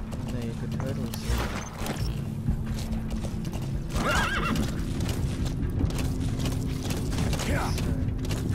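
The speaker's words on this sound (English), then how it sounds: "Nothing special, just a horse." A horse whinnies and its hooves clip-clop steadily nearby, with creaking and a constant low rumble throughout and voices talking over parts of it.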